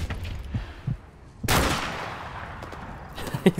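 Gunfire in Call of Duty 4 Modern Warfare Remastered: a few faint shots, then one loud, close blast that rings out and decays, followed by further sharp reports near the end.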